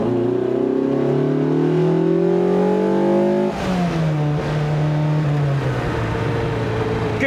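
A Lotus Elise 340R, about 180 horsepower and 700 kilograms, accelerates hard with a loud, close engine note whose pitch climbs steadily, drops abruptly at a gear change, then climbs again, with a faint voice briefly in the background.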